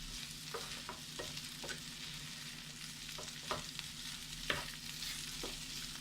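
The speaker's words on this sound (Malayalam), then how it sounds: "ഫ്രൈ ആയി വരുന്നുണ്ട്." Beef frying in a pan for a Kerala-style beef fry, a soft constant sizzle with scattered spoon scrapes and taps as it is stirred, quiet and close, no one speaking.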